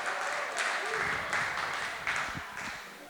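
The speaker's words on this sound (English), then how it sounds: "They are clapping." Audience applause fills the room at a live talk featuring John Cleese, a dense wash of clapping with a few louder surges that gradually eases toward the end.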